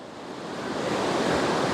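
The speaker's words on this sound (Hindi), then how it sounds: "पानी का साउंड सुनो कितना जोर का।" A mountain river rushes loudly beside a trekking trail on the way to Madhmaheshwar, a steady, dense roar of water that builds slightly and fills the whole clip with no voices.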